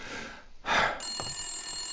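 A telephone rings in the noir detective video game Blacksad: Under the Skin: a single bright ring burst followed by a sustained high electronic tone, close and clear, with no talk.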